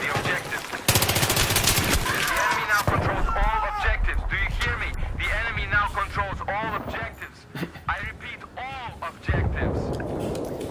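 Repeated bursts of automatic fire from an F2000 rifle in the Battlefield 3 Ziba Tower map, loud and close. The rapid volleys are densest early on, and voices talk over the shooting.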